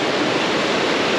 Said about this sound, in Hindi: ये नदी ऊपर धारचूला की तरफ से आ रही है, काली नदी और गौरी गंगा